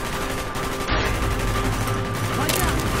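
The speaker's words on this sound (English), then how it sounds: "Gunfire's drawing attention." Gunfire in the Call of Duty Black Ops video game, a dense continuous roar of shooting and loud blasts that fills the scene, with a brief gap in the din near the start.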